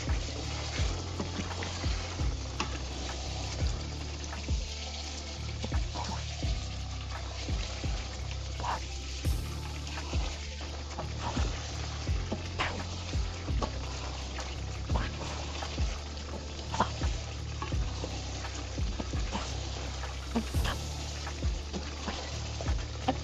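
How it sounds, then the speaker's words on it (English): Steady crackling sizzle of pork frying in a pan, continuous and moderately loud with occasional sharper pops, no talking. "Sizzling pork."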